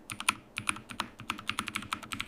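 Steady typing on a computer keyboard, with rapid crisp key clicks at an even rhythm, heard close and alone with no voices.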